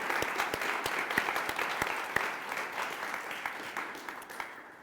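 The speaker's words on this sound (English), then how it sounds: "So I'd like to give a big round of applause to our volunteers" Audience applause for park volunteers at an outdoor civic event, a steady round of clapping with distinct individual claps close by, gradually thinning toward the end.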